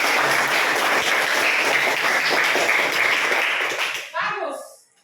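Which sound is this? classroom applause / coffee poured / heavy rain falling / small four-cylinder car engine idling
classroom applause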